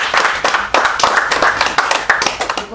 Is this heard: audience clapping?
yes